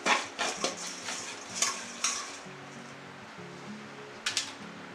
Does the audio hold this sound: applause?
no